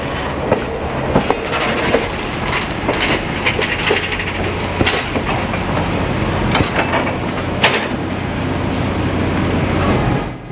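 A Mount Hood Railroad train throttling up on a grade, a loud, continuous rumble of wheels and cars with steady clickety-clack and metallic rattles and squeals, heard close and alone.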